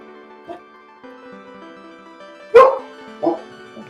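A dog barks at close range: a soft yip, then a loud sharp bark and a shorter follow-up bark, set against a quiet tonal background.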